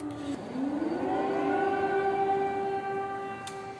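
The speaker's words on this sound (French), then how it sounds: "Encore les sirènes qui sonnent." An air raid siren wails during the war in Ukraine, rising in pitch and then holding a long, steady tone, loud and sustained with faint background hum and no talk.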